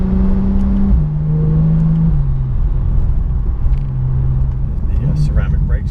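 A 2016 Porsche 911 Turbo S drives through turns, its engine a steady low hum with small pitch steps as it shifts, running loud and close throughout under in-car conversation.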